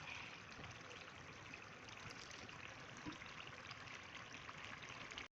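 Vinegar pours in a steady, unbroken trickle into chicken cooking for chicken pastil, a close, continuous liquid stream lasting several seconds with no talk.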